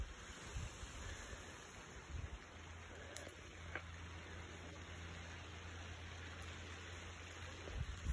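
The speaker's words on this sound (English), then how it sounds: "it's raining right now" Soft, steady rain hisses outdoors, faint and even throughout, with a few light taps and a low rumble beneath.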